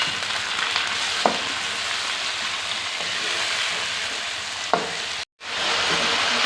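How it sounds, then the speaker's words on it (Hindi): Onions fry with garlic-ginger paste and chopped tomatoes in a pan, giving a continuous close sizzle with two sharp clinks of a utensil and a brief cut to silence before the frying resumes. "अब इसमें हम लहसुन और अदरक का पेस्ट डालेंगे और साथ ही हम ये टमाटर जो काटे हुए हैं वो भी डाल देंगे इसके ऊपर"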